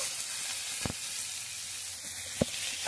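Salted onions frying in a pan, a steady close sizzle with a couple of sharp utensil knocks against the pan.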